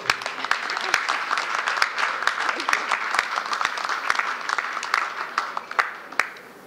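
Applause from an audience at a hotel opening ceremony in Georgetown, a dense patter of many hands clapping steadily for several seconds with a few sharp louder claps standing out.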